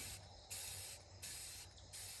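Rust-Oleum 2X paint-and-primer spray paint hisses from the can onto a Halloween yard sign in several steady bursts with brief lulls between them, close up and fairly quiet, with no talking.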